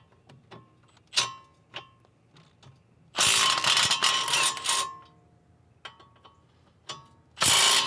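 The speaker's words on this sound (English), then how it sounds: "take loose the caliper bracket bolts and remove brake caliper and bracket assembly together" A 17mm ratchet loosens the caliper bracket bolts on a 2015 Subaru Outback, with sharp clicking bursts and two long loud ratcheting runs between quieter metallic taps.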